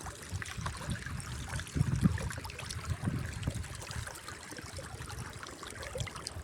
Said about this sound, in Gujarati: આ પાણી ચાલુ કરી નાખ્યું આ જાય પાણી ફમજામાં